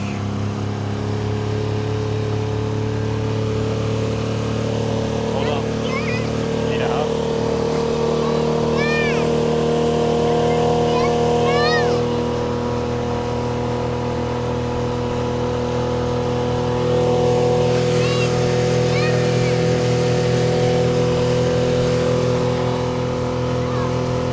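A 2024 Suzuki DF25A 25-horsepower outboard motor fitted with a 9-pitch propeller runs at full throttle on a boat, a loud, steady droning engine hum throughout, with faint voices now and then beneath it.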